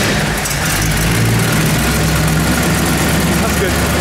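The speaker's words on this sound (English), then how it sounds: "start this car up for us for just a second here" A 1964 Chevrolet Impala SS with a 327 V8 idles close by, a loud, steady, low rumble that holds evenly throughout.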